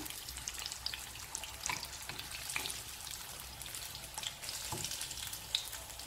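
Chettinad-style fish, seasoned with garlic and chili powder, sizzles steadily as it fries in hot oil, a close, continuous crackle with occasional pops and light stirring, no voices.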